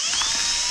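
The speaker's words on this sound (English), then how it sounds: "now I'm gonna have to spend more time actually drilling the holes" A power drill with a smaller 5/32 bit whines at a steady high pitch, drilling holes in a very brief, loud, continuous burst.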